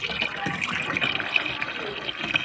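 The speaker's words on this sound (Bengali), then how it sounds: "এখন আমি এই সারটাকে ছোট মুকলা একটা জারে আমি পুরো সারটাকে ঢেলে নিচ্ছি" Liquid plant fertilizer poured from a container into a small jar, a soft steady trickle and splash running throughout at low level, close by, with faint background noise.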